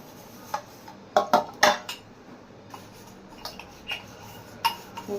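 Dishes being washed by hand with homemade organic dishwashing liquid: scattered clinks and clatters of pots and utensils, a cluster of sharper knocks early on, then lighter taps over a soft background.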